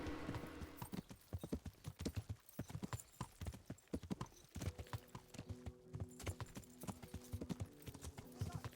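Horse hooves clip-clop at a steady walking pace in the medieval video game Kingdom Come: Deliverance, close and clear over a faint background of music.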